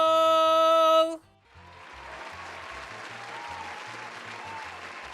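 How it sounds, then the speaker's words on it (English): After a brief sustained musical tone cuts off, a crowd breaks into steady, continuous applause that carries on at an even level to the end. "please give a round of applause for the one"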